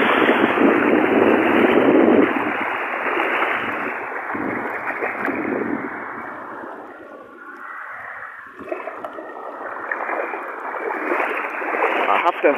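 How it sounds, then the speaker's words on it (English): A broad, rushing roar of fast-moving flood water on a bypass road fills the clip, loud and steady, dipping briefly in the middle before surging back. "And the current here is very strong."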